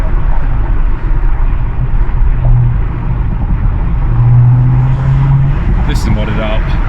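An Audi S5 Sportback fitted with a downpipe and RS exhaust gives a loud, steady low drone from the cabin, with rumbling road noise throughout and voices over it.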